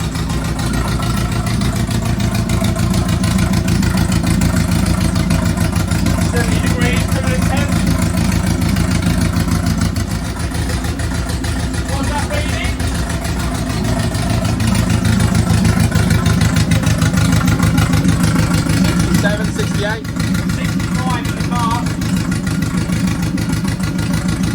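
An MK1 Ford Fiesta engine idles loudly and steadily up close with a low rumble, rising and falling slightly as it settles after revving, while someone talks intermittently over it.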